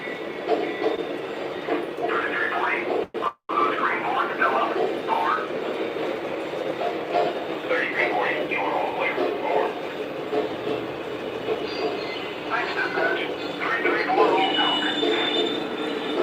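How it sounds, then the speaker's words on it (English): A Lionel model train with a cookie boxcar running along the track, a steady rattling clickety-clack with faint wheel squeal continuing throughout, under occasional talk. "That cookie boxcar is loud."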